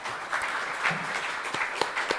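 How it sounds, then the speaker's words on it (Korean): An audience at a Korean political seminar on lessons from the Ukraine war applauds a presenter: fairly soft, diffuse clapping from a room, with a few sharper individual claps standing out. "네, 박수 한번 쳐주시죠."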